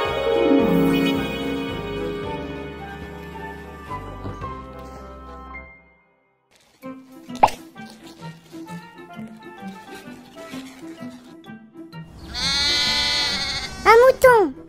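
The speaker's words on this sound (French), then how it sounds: "Un mouton." A toy sheep gives a bleating cry near the end, loud and close, after a stretch of a baby doll's toy sounds and short electronic jingles.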